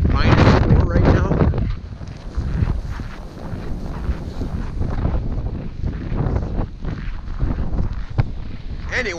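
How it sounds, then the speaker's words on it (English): Strong winter wind at an outdoor ice fishing spot in roughly minus four degrees, loud gusty buffeting across the microphone that continues throughout in uneven surges. "It is crazy windy out."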